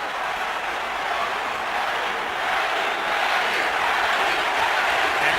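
A crowd at a boxing arena roars steadily during a Manny Pacquiao fight, a dense and even wash of cheering that swells slightly toward the end, with no other sound clearly standing out.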